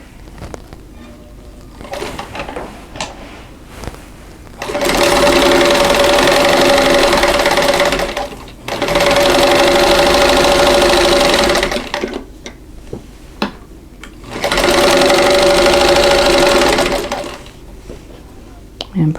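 A home sewing machine stitches quilt block pieces into a four-patch unit: three loud, steady mechanical whirring runs of a few seconds each, separated by quieter pauses with handling noises.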